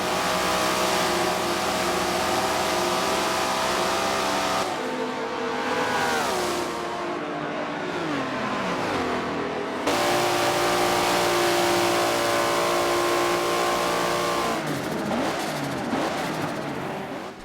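Two cars, a BMW and a Mustang, drag racing in the Forza video game, engines roaring loudly and steadily with rising rev sweeps and gear shifts throughout.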